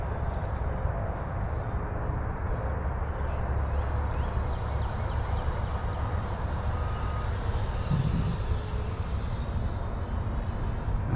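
A radio-controlled model plane on high-voltage LiHV batteries flies at full throttle, giving a steady, high-pitched electric motor whine. The whine shifts slightly in pitch as the plane passes, with outdoor wind noise underneath.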